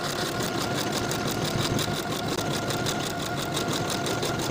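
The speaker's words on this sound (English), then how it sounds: "Sew your 4 buttonholes according to the buttonhole markings from the pattern piece" A sewing machine stitches buttonholes into a knit sweater, a steady fast mechanical whir with regular pulsing rhythm, moderately quiet and continuous with no voices.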